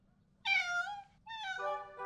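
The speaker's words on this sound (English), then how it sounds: "The cat is stuck on the high shelf." A cat stuck on a high shelf gives two clear, drawn-out meows close by, the second one wavering lower, over a faint steady background hum with no talking.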